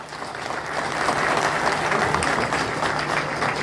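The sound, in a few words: applause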